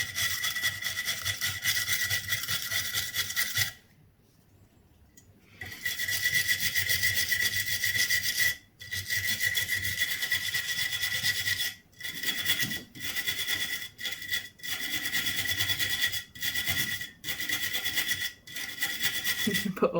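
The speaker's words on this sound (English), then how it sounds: "I'm very happy to stood here watching you wire brush a bolt" A steel wire brush scrubs a bolt while replacing footpegs and mounts on a Suzuki DR200 motorcycle, a steady harsh rasping that runs close and loud for most of the stretch, broken by a few short pauses.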